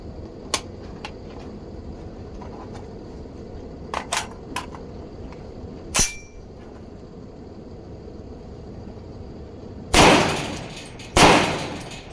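An IWI Zion .308 rifle fires outdoors, with two loud, sharp reports near the end ringing out briefly after a stretch of quiet with a few small clicks and handling knocks.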